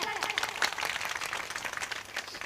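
Clapping from a crowd rolls on through a comedy kirtan, a sustained patter of hands heard at moderate level with voices mixed in.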